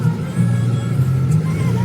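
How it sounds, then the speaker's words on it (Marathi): A car drives along a road in the morning, a steady low engine drone and road rumble heard from inside, loud and continuous. "गाडी किती वेगाने जात आहे"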